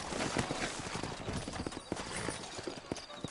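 Hoofbeats of several horses clip-clop steadily in a Red Dead Redemption game scene, dense overlapping steps against a busy background of game sound, with no talk during the stretch.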